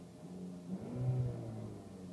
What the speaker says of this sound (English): And when you hit the rev limiter, it'll tell you the engine overspeed.